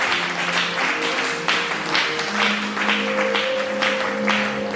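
A church congregation claps for the Lord, a dense, continuous wash of applause with sustained musical or sung tones running underneath.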